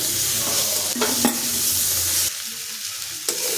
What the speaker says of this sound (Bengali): টমাটোটাও ভেজে নেব যতক্ষণ না টমাটোটা গলে যায়